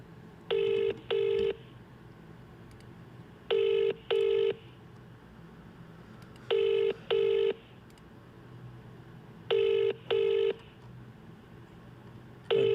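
Outgoing phone call ringing back in repeated double bursts of a steady electronic ring tone, each pair followed by a pause, clear and loud over faint room noise.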